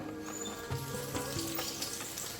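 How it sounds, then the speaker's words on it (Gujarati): Methi bhajiya, fenugreek-leaf fritters with green chilli, frying in a pan of hot oil, giving a steady close bubbling sizzle with small crackles throughout and no talking. "ભજીયા માટે મેં તેલ ગરમ મૂકી દીધું છે। હવે આપણે આના મીડિયમ સાઈઝના ભજીયા બનાવી લઈશું।"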